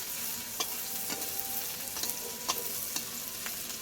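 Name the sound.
chopped garlic frying in oil in a pan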